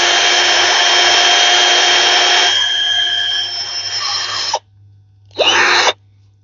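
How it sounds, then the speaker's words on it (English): A power drill bores a pilot hole while repairing a butane culinary torch, a loud, close steady whine that drops in pitch as it works, stops, then gives a second short burst. "And you just drill a pilot hole."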